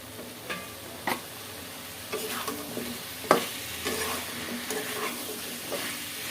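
Papaya and potato pieces with dried loitta fish being stir-fried in a pan, a steady sizzle broken by a handful of scraping stirs at irregular moments, close and moderately loud, with no talking.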